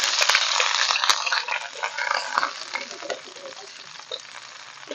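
Hot oil sizzles loudly in a pan at an outdoor dirty kitchen for a ginataang puso ng saging dish, a steady bright crackle with a few sharper pops near the start and no one talking.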